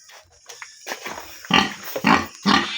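Pig grunting close by, a run of rough, throaty grunts and snorts in irregular bursts that grow louder toward the end, with no talk over them.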